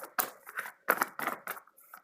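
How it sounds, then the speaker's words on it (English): Tarot cards shuffled by hand at close range, giving a series of crisp papery riffling bursts with short gaps between them and no voices. "I'm going to go ahead and shuffle a universal love healing card for you off camera real quick"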